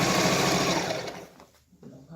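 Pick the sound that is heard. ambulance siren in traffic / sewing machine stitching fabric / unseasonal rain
sewing machine stitching fabric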